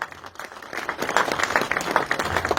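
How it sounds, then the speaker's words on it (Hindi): An audience applauds enthusiastically at an award ceremony honoring a 100-year-old navy veteran, building from lighter clapping into louder, dense applause. "जोरदार तालियां, जोरदार तालियां।"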